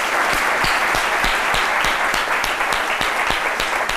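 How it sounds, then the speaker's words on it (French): Studio audience on a French midday TV show applauds a guest walking on, a dense, steady wash of clapping with a few sharper claps standing out, loud and close throughout. "Merci de l'applaudir."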